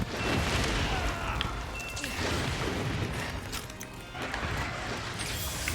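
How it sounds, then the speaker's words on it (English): Fireworks pop and crackle in a dense, continuous barrage, with loud bursts and rumbling booms overlapping for several seconds. "All the fireworks."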